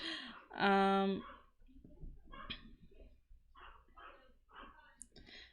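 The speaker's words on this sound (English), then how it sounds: "my dogs are being a tad bit territorial" A single loud dog bark rings out, followed by a person talking quietly with faint background noise.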